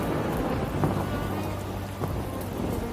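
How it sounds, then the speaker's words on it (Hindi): Heavy rain pours steadily in a cartoon storm, a dense constant hiss with low thunder rumbling underneath and a couple of faint cracks, continuous and unbroken. "बेटी, तुम इतनी भयानक बारिश में यहाँ क्या कर रही हो?"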